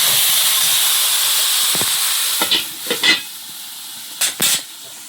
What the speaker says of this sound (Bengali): আবার একটু নাড়িয়ে দিচ্ছি।